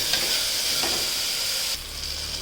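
Mixed vegetables fry in a pan for a vegetable bath made without onion or garlic, giving a steady close hissing sizzle with faint stirring scrapes throughout.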